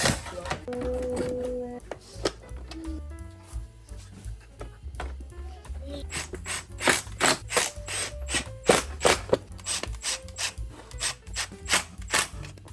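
Hand tools clicking and ratcheting while a side fairing is fitted to a crash-salvaged Suzuki GSX-R 750 motorcycle during a rebuild, with quick repeated ratchet bursts and clacks up close, growing busier in the second half.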